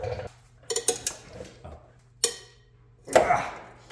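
Metal wrenches clink and clatter in a few sharp, separate knocks as they are handled while unbolting the heat shield on a Honda Element, with quiet pauses between the hits.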